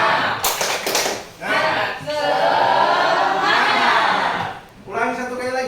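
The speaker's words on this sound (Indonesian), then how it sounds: "Kita tepuk semangat." An Indonesian school class performs the 'tepuk semangat' clapping chant: bursts of rhythmic group clapping mixed with loud shouted chanting, in a few separate rounds close by.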